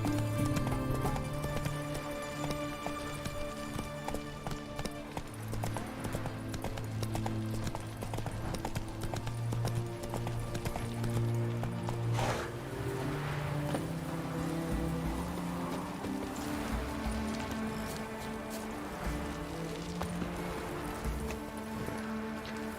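Roach the horse gallops along in The Witcher 3, hooves beating a steady, rhythmic clip-clop that runs throughout under a sustained tonal music bed.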